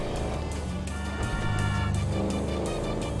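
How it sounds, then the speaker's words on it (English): A big 140-cubic-inch motorcycle engine in Grand Theft Auto V, a loud continuous roar and revving drone that swells slightly midway with no pauses. "That's a monster fucking bike you riding"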